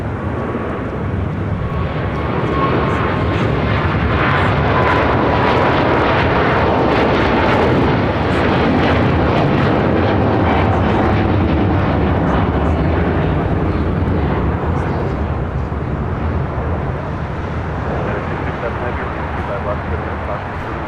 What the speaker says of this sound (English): That is Cathay Pacific 885 taking off to Hong Kong on a 777-300ER.